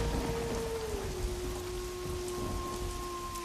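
Steady rain falls as an ambient effect behind a scary story, a continuous even hiss with no separate distant thunder rumble standing out, and a sustained low tone running underneath.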